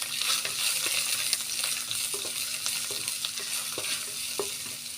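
Cumin seeds sizzle in hot oil in a pan while a drumstick rasam is being made. A steady bright hiss carries scattered pops and crackles, with a few light stirring knocks.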